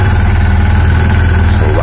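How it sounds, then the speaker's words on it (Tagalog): A cold Kawasaki Barako II motorcycle engine fires on a single click of the electric start and settles into a steady, loud, close idle with a low rhythmic throb, running alone with no talk. "One click mga pare ko at malamig po yung ating makina"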